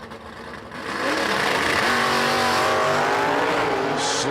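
A 1970 Camaro makes a drag racing run, its engine roaring loud and steady after a quieter first second, building into a sustained high-power blast.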